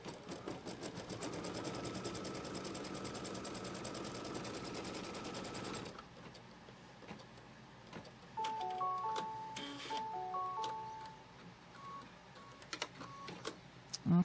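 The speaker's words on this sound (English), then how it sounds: "it's going to stitch a line from the left over to the right, tacking this fabric down" An embroidery machine tacks quilt fabric down in a hoop with a rapid, even stitching chatter that runs steadily for several seconds, then stops, leaving soft beeps and faint handling noises.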